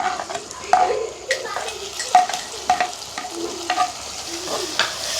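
Onion, green chilies, garlic, tomato and curry leaves fry in a pan in a village kitchen, with a soft sizzle beneath repeated close scrapes and clinks of a stirring spoon.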